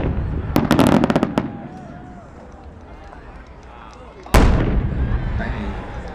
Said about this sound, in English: It's an 8-inch break of red stars followed by 1 timing of reports, then a what? Bottom shot.